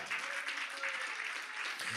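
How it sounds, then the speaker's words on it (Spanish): A church congregation claps in praise, a dense, steady burst of many hands clapping at close range. "dale palmas de alabanza al Cristo de la gloria"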